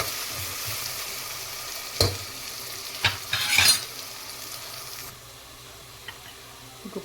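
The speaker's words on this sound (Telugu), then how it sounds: "అల్లం వెల్లుల్లిపాయ పేస్ట్ వేసి, అల్లం వెల్లుల్లిపాయ పేస్ట్ పచ్చివాసన పోయే వరకు వేయిద్దాం" Ginger garlic paste fries in oil in a pan while a Telangana-style kheema curry is cooked, a crackling sizzle with several loud scraping stirs in the middle and a softer, steadier hiss afterward, with no voices.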